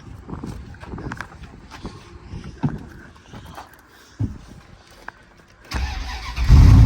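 Faint clicks and rattles from an older car at an auction lot, then near the end the engine cranks and catches, starting with a sudden loud low rumble.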